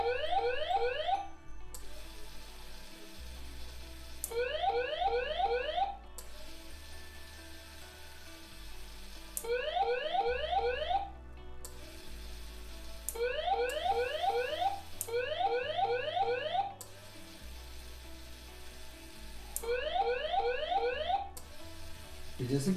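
A drowsiness detection system's alarm, built with an infrared sensor and a DC motor, sounds in repeated loud electronic beeping bursts, several chirps per burst, cycling on and off steadily for over twenty seconds.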